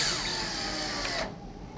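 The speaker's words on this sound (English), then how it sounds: "We can go ahead and install the bottom screw." A power driver runs a screw into a window hinge: a steady, loud whirring buzz for about a second and a quarter, then it cuts off abruptly, leaving quieter background hum.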